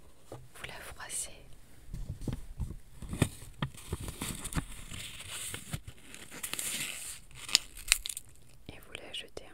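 A sheet of paper being crumpled up close, with crinkling and rustling bursts under soft whispering throughout.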